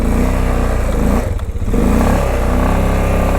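A 2005 Honda Rincon 650 4x4 ATV on stock tires roars loudly up close as its engine revs and its wheels spin, with a brief dip in the middle before the engine noise returns.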